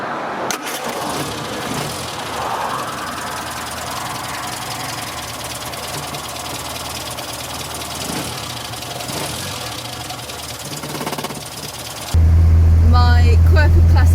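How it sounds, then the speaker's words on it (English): Engine of a 1968 Morris Minor while driving, a continuous low rumbling drone at steady level, jumping to a louder, deeper hum in the last couple of seconds. "all recorded from my 1968 Morris Minor Peggy"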